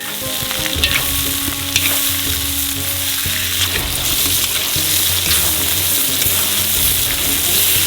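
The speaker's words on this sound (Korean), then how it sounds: "다음으로 가마솥에 양파를 부어요. 3분간 볶아주세요." Onions stir-fry in a large wood-fired cauldron, a loud continuous sizzle and crackle with occasional scraping stirs, steady throughout and up close.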